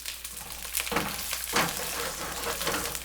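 Meat browning in a pan for Calabrese pasta al forno sizzles steadily and close, a bright crackling fry with a couple of louder spitting bursts as pieces are turned, no talk.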